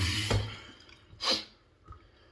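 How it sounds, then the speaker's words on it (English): Water splashed onto a face during a shave at a sink: a few short, close wet splashes, one near the start and a stronger one midway, with quiet dripping between. "Splash water on your face. More water."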